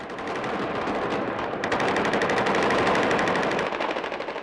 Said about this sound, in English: American Marines poured gunfire into positions close to the hotel